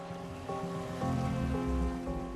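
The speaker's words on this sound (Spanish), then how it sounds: "Se oye agua ahí abajo." Water flows deep inside a giant crater hole in the Arctic, a steady broadband rush over a low rumble that swells slightly midway and carries on without pause.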